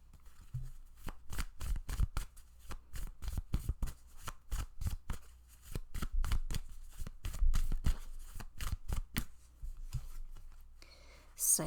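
Tarot cards being shuffled by hand, a rapid, crisp series of riffling flicks and slaps in close succession, near and fairly quiet, continuing steadily with brief pauses.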